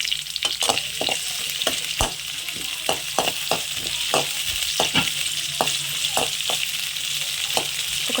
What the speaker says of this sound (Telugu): అవి వేసి పచ్చిమిర్చి ఒకటి వేసి వెల్లుల్లి వేసి ఫ్రై చేసుకోవాలన్నమాట